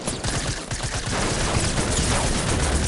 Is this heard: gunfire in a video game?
yes